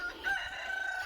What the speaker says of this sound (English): One chicken that's out with this rooster.